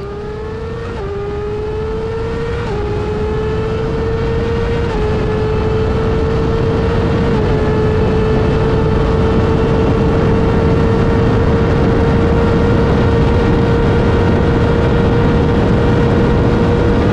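A carbon-bodied Suzuki GSX-R motorcycle engine screaming near 15,000 RPM, loud and close, rising through a few quick gear shifts before holding a sustained high-pitched wail with a steady roar.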